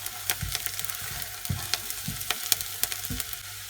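Raw chicken frying with timur pepper for a simple chicken curry, a soft continuous sizzle broken by regular knocks and scrapes of a spoon stirring the pan, close and unvoiced.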